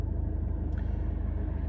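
Car reversing slowly in a straight line, a steady low engine rumble with a faint regular tick, constant and close throughout.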